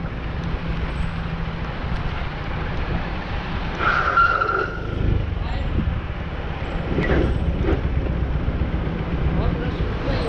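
Motorcycle front disc brake test at night, tyres squealing and skidding briefly over a constant engine and road rumble, with people talking over the noise.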